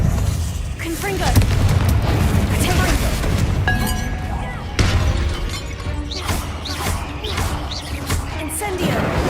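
The Confringo blasting spell in Hogwarts Legacy sets off loud, close explosions with booming impacts and shattering debris, one burst following another amid constant combat noise, with voices talking over parts of it.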